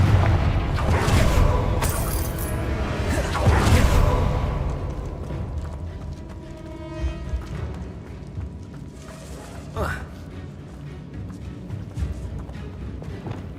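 A Confringo fire spell bursts in Hogwarts Legacy with loud booming, crashing blasts, followed by lingering rumble and fading debris and a brief magical whoosh.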